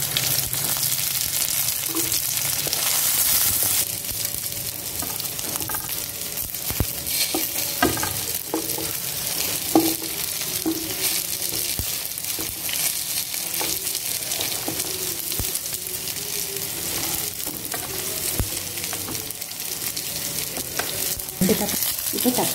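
Dried red chillies and garlic sizzling in hot oil in a pan for a spicy chutney, with a steady loud frying hiss throughout, broken by the scrape and clatter of stirring, and no talking.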